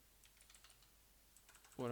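Soft, quick keystrokes on a computer keyboard tap in an irregular run, quiet and close, with a louder burst of sound cutting in at the very end.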